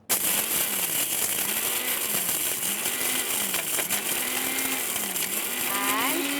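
A Sumeet mixer grinder whirs loudly and continuously at high speed, grinding sambar powder, the motor pitch rising and falling in a steady cycle as the spices tumble, with no pauses throughout.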